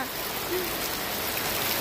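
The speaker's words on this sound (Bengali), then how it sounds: "ভালোই পরিমাণে বৃষ্টি আসছে" Steady rain falling, a soft even hiss of drops that stays constant throughout at moderate loudness with no voices.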